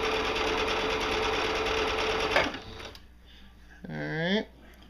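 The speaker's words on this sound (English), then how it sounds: "just keep sewing all the way around" Sewing machine stitching taut fabric for a photo booth light diffuser, a steady fast mechanical whir that stops partway, followed by quieter handling sounds and a brief voice.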